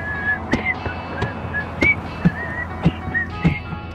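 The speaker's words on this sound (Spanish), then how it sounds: "Chifla conmigo." A person whistles a short melody of sliding, high tones. Sharp percussive taps recur at a steady beat behind the tune.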